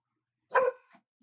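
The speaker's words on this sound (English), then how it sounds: "why are you barking, girl?" A single short bark from a female dog indoors, close and fairly loud, trailing off into a soft whimper-like tail, with quiet before and after.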